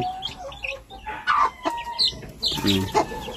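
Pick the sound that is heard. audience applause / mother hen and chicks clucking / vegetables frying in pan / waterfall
mother hen and chicks clucking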